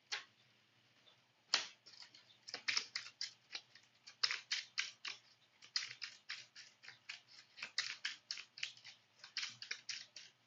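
A deck of game cards is shuffled during a Marvel Champions card game, producing a close, rapid run of crisp flicking clicks in irregular bursts over several seconds with no talking.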